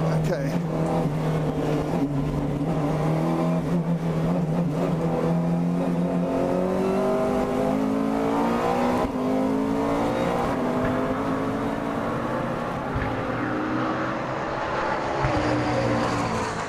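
A McLaren MP4-12C GT3 race car on track, its engine droning loud and close with rising and falling pitch as it accelerates through the gears, continuous throughout with a faint voice beneath.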